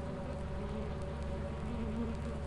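Bees buzzing from a beehive in Lethal Company, a continuous close, droning hum with a steady pitch that holds for the whole moment without any voices.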